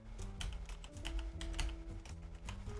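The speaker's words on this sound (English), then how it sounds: "Typing out all these letters again." Rapid typing on a computer keyboard during a game-making livestream, a steady stream of close, crisp key clicks over faint background tones.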